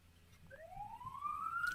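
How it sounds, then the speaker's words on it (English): A police siren rises in a single long upward wail, moderately distant and growing louder, over low background noise with no speech. "You hear that siren?"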